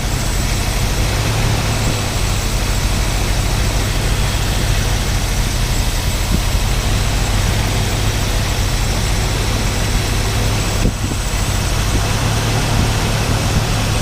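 A 1964 Lincoln Continental with an Edelbrock carburetor idles a little low, a steady loud rumbling drone that runs unbroken throughout, with no one speaking.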